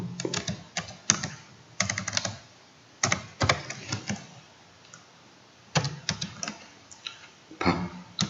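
Computer keyboard typed on in short bursts while a student's name is entered, crisp close key clicks in quick clusters separated by brief pauses, with no talking.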